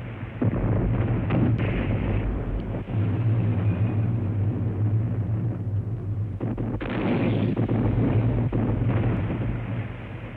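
Naval gunfire and exploding shells at sea, a dense, continuous low rumble of heavy guns with repeated booms and blasts, loud and muffled throughout.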